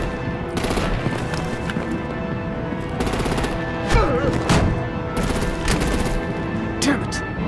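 Rapid gunfire in the Batman Telltale Series game, several dense bursts of automatic fire in quick rattling volleys with short gaps, loud and close over a steady background hum.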